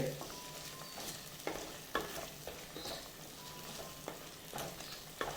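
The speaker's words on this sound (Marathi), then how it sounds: "आता याच्यामध्ये आपण आपण तळून घेतलेले जे प्रॉन्स होते ते घालून घेणार आहोत हे या मसाल्याबरोबर मिसळून घ्यायचे" Fried prawns are stirred into a ghee roast masala in a hot pan, with steady sizzling and frying and repeated sharp scrapes of a spoon against the pan, close and fairly loud, with no speech.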